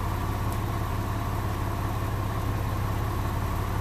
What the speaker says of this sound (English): You can hear the engine's running a lot smoother. It's idling a lot smoother.